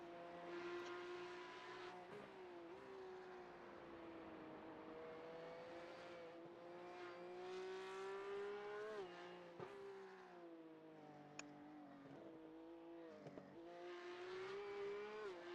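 A Porsche Cup car drifts on a wet track in iRacing, its engine note rising and falling steadily as the driver counter-steers, with revs swooping up and dipping repeatedly and no talk over it.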